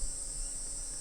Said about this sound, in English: it's a cicada, which you can hear in the bushes at the moment